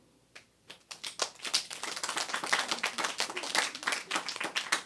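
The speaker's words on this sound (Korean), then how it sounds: "박수 한번 해줘요" A church congregation claps during a worship service, starting with a few scattered claps and building into a dense round of applause that stays steady to the end.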